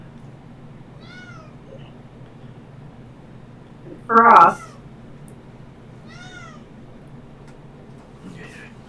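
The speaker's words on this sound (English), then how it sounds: "we hear evidence of a street cat meowing at us" A street cat meows in an alley, a few faint, scattered cries with one louder, closer call near the middle, heard under low background noise while a voice speaks briefly.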